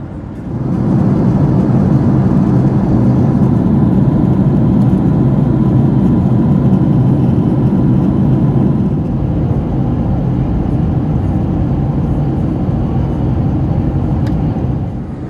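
Steady loud engine roar and cabin rumble inside a packed Qantas Boeing 737 climbing out after takeoff on a Brisbane to Cairns flight, a continuous broadband drone holding nearly level throughout with no voices.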